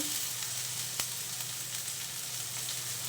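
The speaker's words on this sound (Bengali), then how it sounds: "এখন মশলাটাকে ভালো করে কষিয়ে নেই।" Spice masala frying and being stirred in a pan for a fish curry with turmeric and green chilies, a steady close sizzle with a faint utensil tap, no voices.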